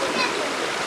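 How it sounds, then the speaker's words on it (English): A Jamaican country river rushes past in a steady, loud wash of flowing water, close and continuous. "River. Love the water. It's nice and cool."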